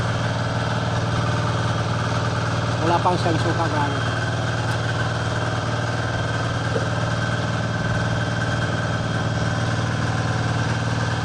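A steady engine drone runs throughout from a water pump engine being test-run nearby beside a river, like a small pump motor idling, with a brief spoken remark over it.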